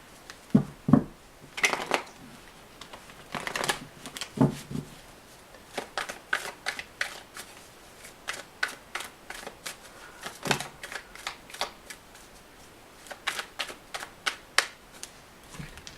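Tarot cards shuffled by hand during a couples reading, giving repeated crisp riffling bursts and soft slaps, close and fairly quiet, spread irregularly across the clip with no talking.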